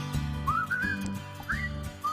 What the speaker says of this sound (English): I just like to let it whistle.